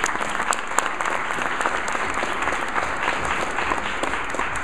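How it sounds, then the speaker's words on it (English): A university audience applauds after a chanting performance, sustained dense clapping from many hands, loud and even throughout without a break. "So round of applause for them,"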